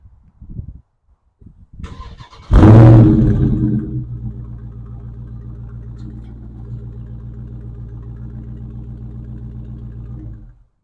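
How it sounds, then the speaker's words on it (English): A 2022 Dodge Charger Scat Pack with a 485-horsepower engine cranks over briefly, then fires with a loud bark and a rev flare before settling into a steady, rumbling idle that runs until it cuts off. "Let me get this car started up for you guys so you guys can hear it."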